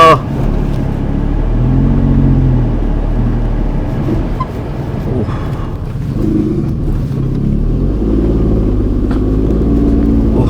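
A car engine rumbles and labours under load while struggling to climb a steep, potholed uphill road, its pitch rising and falling as it strains, close and loud throughout.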